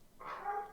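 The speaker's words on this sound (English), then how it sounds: "Your dog's barking" A dog gives a single short, faint bark or yip somewhere in a room, heard on its own without any talking over it.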